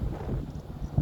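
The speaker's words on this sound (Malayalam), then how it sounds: "കാറ്റ് ചെറുതായിട്ട് ഇളം, എന്തായാലും പറയുക, ഇളം കാറ്റ്." A light breeze blows across green hills in Salalah, Oman, as a soft, steady low rush of wind buffeting the microphone with no other distinct sounds.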